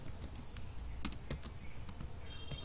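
Computer keyboard keys, including the enter key, click sharply in a sparse irregular sequence of single taps, close and crisp over a quiet background.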